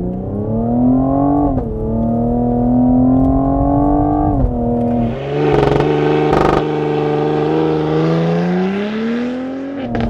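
A 2020 Cadillac CT5-V with a 3-liter twin-turbo V6 accelerates hard from a launch-control start, its engine note climbing loudly through the revs with brief dips at gear shifts, close and dominant throughout.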